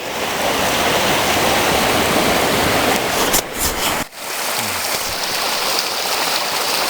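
Clear mountain creek water rushes steadily and loud, a dense broadband roar close by, briefly disturbed by a few knocks and a sharp dip partway through before the flow resumes.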